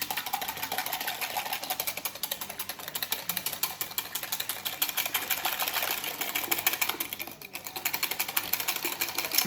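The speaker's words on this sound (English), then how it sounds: "I'm going to whisk these together." A whisk beating lemon posset ingredients in a bowl, a fast continuous rattling of wire against the bowl that runs steadily and loudly throughout with no talk.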